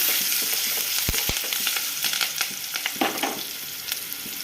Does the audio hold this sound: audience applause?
no